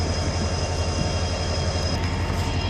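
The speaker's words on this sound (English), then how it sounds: "Still loud too. The train's still there." A freight train rolls past close by, producing a loud, steady rumble and rattle of cars that holds without a break and with no voices.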